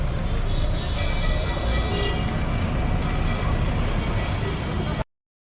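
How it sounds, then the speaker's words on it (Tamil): Busy road traffic at the Nepal border crossing: a dense, steady wash of engine noise and rumble with no break, loud and close throughout, then cutting off abruptly at the end. "திரும்ப இங்கேயும் வந்து பார்த்திங்கன்னா ஒரே டிராஃபிக் தான்"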